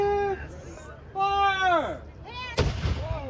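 A single loud cannon booms at a Christmas reenactment of Washington's crossing of the Delaware River, a sharp blast partway through that rings out under a narrator's voice.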